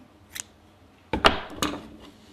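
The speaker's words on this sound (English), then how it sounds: "Here we can also cut the yarn" Scissors cut crochet yarn in a quiet room: one faint snip, then a few crisp, close blade clicks and slices in quick succession.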